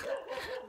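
A dog lets out a single short, loud bark, close by and on its own.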